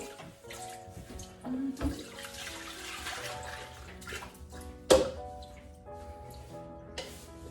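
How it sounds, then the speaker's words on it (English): Stinging nettle is rinsed under a running kitchen sink tap, with water splashing and trickling in uneven bursts, punctuated by a few sharp knocks and clatters, while soft music plays in the background. "under the tap, just to get rid of any dust or anything"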